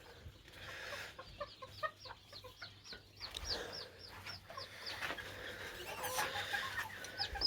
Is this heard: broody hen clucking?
yes